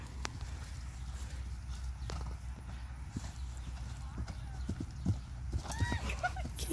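A real horse's hooves clip-clopping at a steady walking rhythm, fairly close, with a brief whinny near the end and people chatting faintly over it.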